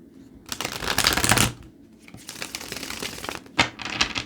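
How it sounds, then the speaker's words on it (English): A deck of tarot cards is shuffled by hand at close range in quick riffling bursts, with a long flurry near the start, a brief pause, then further rapid shuffles and a final sharp snap, with no talking. "Let me shuffle first."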